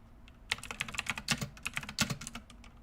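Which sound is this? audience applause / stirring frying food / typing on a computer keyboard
typing on a computer keyboard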